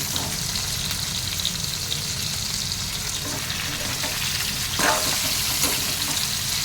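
Drumstick pieces fry in a pan for munagakaya pappu, a lentil dal, with a loud, steady sizzle throughout and the soft scrape of stirring. Near the end it swells briefly.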